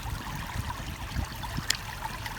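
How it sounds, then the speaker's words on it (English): A steady trickle of flowing stream water with broadband wash and a few small splashes, close and moderately quiet, with no talking, recorded on an iPhone 7. "So you can hear the water."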